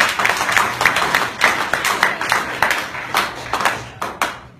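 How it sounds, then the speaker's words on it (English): An audience applauding panelists at a Hawaiian gathering, with scattered individual claps sounding distinctly in an uneven, thinning rhythm and trailing off to a few last sharp claps. "please give a round of applause to our panelists"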